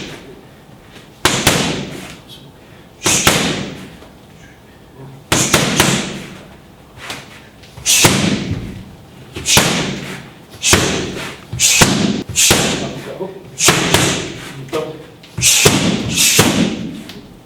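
Muay Thai fighter punching and kicking pads as hard as possible during fight preparation, a series of about a dozen sharp, loud thuds and smacks at an irregular rhythm of roughly one per second, close.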